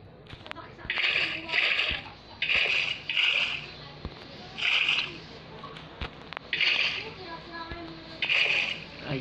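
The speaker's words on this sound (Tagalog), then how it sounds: "Lagyan natin ng tubig." Water is placed in a Minecraft creative-mode game, making a series of short splashing and sloshing bursts at irregular intervals. Someone talks over and between the splashes.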